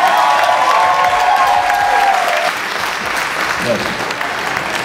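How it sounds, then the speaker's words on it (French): Loud, sustained audience applause for an honoree at a Haitian tribute event, a dense wash of clapping filling the whole stretch with some crowd noise and a voice over it early on. "Mesdames et messieurs, applaudissez Robinson Lawrence"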